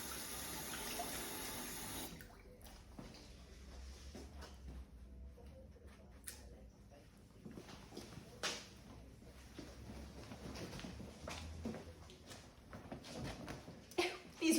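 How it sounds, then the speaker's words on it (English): Running tap water pours at the start while hands are washed, then gives way to quiet splashes, clinks and movement in a kitchen, with people talking throughout. "Don't forget to wash your thumbs,"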